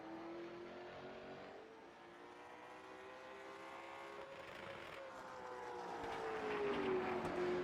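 Sim late model stock cars in a racing game bang off the rev limiter while braking into a corner, a steady, fairly loud engine drone with a falling then rising pitch and a stuttering buzz throughout.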